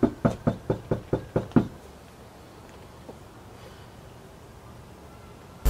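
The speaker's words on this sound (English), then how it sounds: "let's knock on this door." A hand knocks on a house door, seven loud, evenly spaced close raps in quick succession, then a quiet room-tone pause before a sudden sound at the very end.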